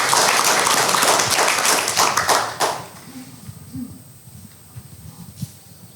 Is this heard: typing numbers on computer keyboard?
no